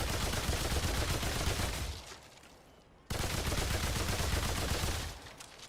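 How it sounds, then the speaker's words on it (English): A bipod-mounted machine gun fires in a game mod, with a dense, loud, continuous burst that breaks off for about a second before another sustained burst. "It's gonna be a machine gun with a bipod."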